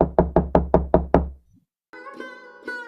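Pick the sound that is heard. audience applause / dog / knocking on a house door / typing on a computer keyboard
knocking on a house door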